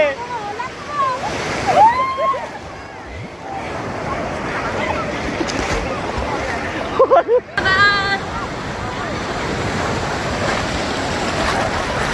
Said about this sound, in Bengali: অনেক বড় একটা ঢেউ আসছে